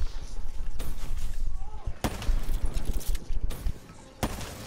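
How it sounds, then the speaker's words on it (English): A flashbang grenade goes off in a first-person shooter video game amid several loud, sharp bursts and crackling gunfire. A voice is faintly heard early on. "He's throwing a flashbang."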